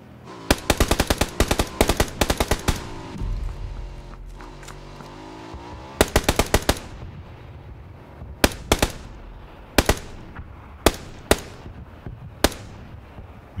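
Gunfire in the PUBG video game, quick bursts of automatic shots repeated several times, then sparser single and double reports spaced over the rest of the stretch.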